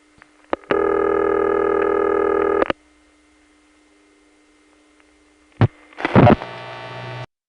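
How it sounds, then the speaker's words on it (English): Tones from a Yonkers No. 1 crossbar telephone exchange switch: clicks, a loud steady buzzing tone lasting about two seconds, then a faint hum, further clicks and a short burst of harsh tone at the end. "That was a Yonkers number 1 crossbar. You can tell it was crossbar 1 by this sound."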